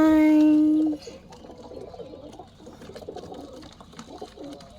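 Baby pigeons coo softly in a series of low, burbling calls. They start after a loud steady tone in the first second and continue faintly throughout.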